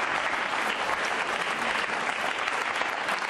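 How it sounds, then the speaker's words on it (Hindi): A studio audience at a Ramadan quiz show bursts into loud, sustained applause, a dense continuous clapping that fills the room. "तालियां जोरों से बजाइए आप"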